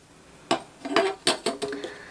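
Metal pot support of a Jetboil MicroMo stove being handled, five or six close, sharp metallic clinks and rattles in quick irregular succession over a quiet background.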